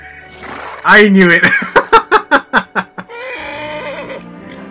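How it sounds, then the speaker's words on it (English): Max the horse in Kingdom Hearts 3 lets out a loud whinny, a rising cry that breaks into a rapid run of about eight descending nickering pulses, close and clear, with a voice speaking briefly just after. "Max is a very strong horse."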